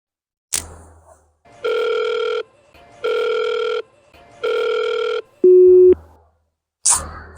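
A phone call rings out unanswered: three evenly spaced, loud electronic ringback tones, each about a second long, followed by a shorter lower tone, with brief thumps at the start and end.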